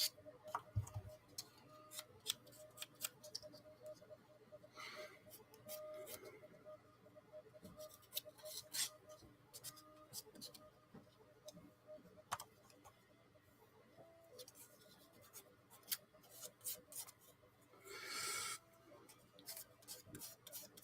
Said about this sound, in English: let's give them a quick rough sand at the edge